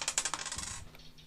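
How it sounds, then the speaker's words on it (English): Dice rolled on a hard surface make a quick rattling clatter of small tumbling knocks that settles within about a second. "Cyan rolls the dice."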